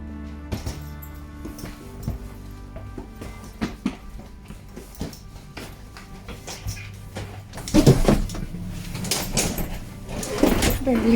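A heavy suitcase is hauled through a hotel-room doorway in Finland, with scattered knocks, bumps and door clatter under a steady hum, growing busier and louder toward the end.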